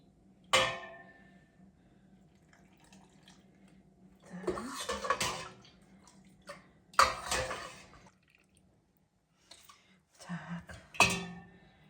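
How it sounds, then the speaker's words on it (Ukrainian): Cooled marinade is poured into jars of halved tomatoes in a home kitchen, heard as a few short splashy pours and glassy clinks separated by quiet pauses, close and fairly soft. "я тепер заливаю кожну баночку маринадом"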